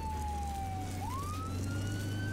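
A paramedic vehicle siren in the Flashing Lights emergency-services game, one continuous wail sliding down, dipping and rising again over a steady low engine drone, loud and close with no talk.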